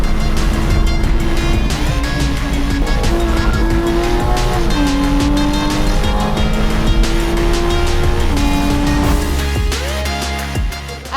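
A race taxi on NEXEN tires laps the Nurburgring: a loud engine drones and climbs through gear changes for about eleven seconds, with squealing tires and wind roar throughout.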